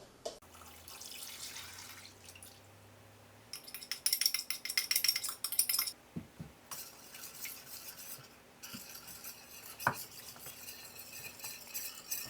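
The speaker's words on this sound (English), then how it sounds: "Add the jug contents into the yeast and stir" Warm jug contents stirred into yeast for wholemeal sourdough, heard as faint pouring and liquid trickling, then bursts of clinking and scraping from a utensil against a bowl, close and fairly quiet, with no speech.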